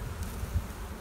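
Honeybees in a queenless hive give a continuous close buzzing drone, steady and moderately loud for about a second.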